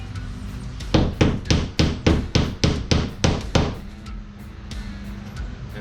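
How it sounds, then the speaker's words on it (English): Hammer driving nails while installing a wooden shed window: about nine sharp, evenly spaced blows in quick succession, close and loud, then quiet. "And then all we got to do is go around and finish nailing in"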